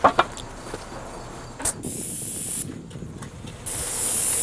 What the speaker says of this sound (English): it looks like you guys are actually spraying a couple of the shutters